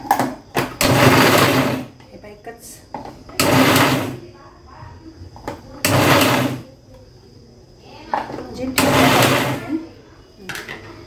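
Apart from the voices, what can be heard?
mixer grinder coarsely grinding green chillies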